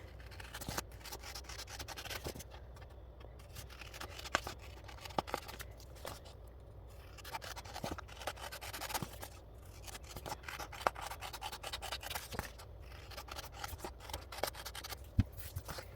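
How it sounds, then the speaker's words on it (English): Scissors trim excess paper from the edges of printed planner pages, a faint, steady snipping and rustling close by with soft scattered clicks throughout. "You can see here I'm basically trimming out 3 columns and just cutting out all of the excess."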